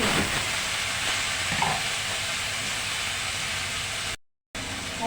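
Washed, drained rice goes into a pan of chicken and potatoes with a loud, steady sizzling hiss that runs almost unbroken, apart from a brief silent gap near the end.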